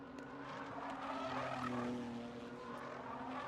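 Ginetta GT race cars drive at Oulton Park, their engines a faint, distant, sustained drone that swells and fades slightly as they pass, with no voices.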